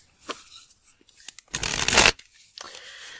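Tarot cards drawn and handled from a deck, with a short close riffling shuffle burst in the middle and lighter card slides before and after, no talking.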